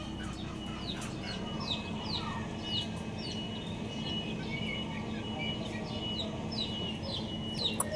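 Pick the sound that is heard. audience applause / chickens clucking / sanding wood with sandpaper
chickens clucking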